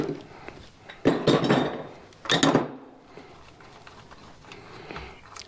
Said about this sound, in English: let's get this pulley off